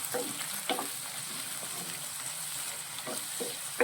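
Ginger, green chilli and garlic sauté in hot oil in a pan with a soft continuous sizzle, broken by a few light stirring scrapes.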